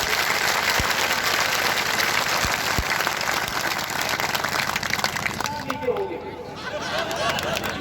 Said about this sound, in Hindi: एक बार माँ शक्तियों के लिए जो आई हैं उनके लिए जोरदार तालियां होनी चाहिए।